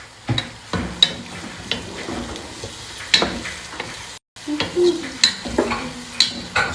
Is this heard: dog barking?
no